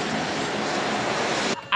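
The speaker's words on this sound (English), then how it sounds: "Y'all look at the plane about to land." A broad, steady jet roar fills the air as an airplane comes in to land over Maho Beach in St. Maarten, loud and continuous before cutting off abruptly.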